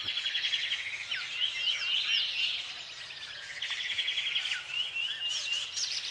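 Several bird species call along the Namibian coast, their overlapping chirps, whistles and quick trills filling the air continuously at a moderate distance, with no talking.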